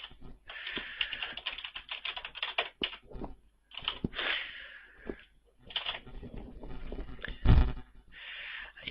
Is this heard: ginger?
no